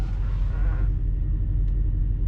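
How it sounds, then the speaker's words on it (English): A heavy truck engine idles nearby with a loud, steady low rumble that continues without a break. "it's the guy is just idling his truck"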